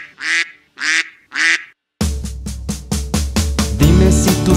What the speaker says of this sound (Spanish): Dime si tú sabes cómo hace el pato, vamos a escucharlo tú y yo.